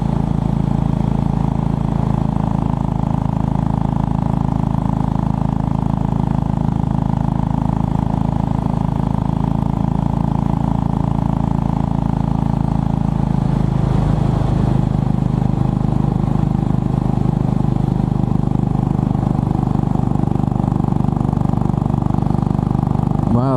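A Royal Enfield Bullet 500 motorcycle cruises along a smoothly paved road, its engine putting out a loud, steady low thump and drone, with wind rushing past and a slight shift in tone partway through.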